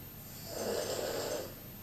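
A sleeping character snores in Hogwarts Legacy, a single soft, drawn-out snore swelling and fading on its own, fairly quiet.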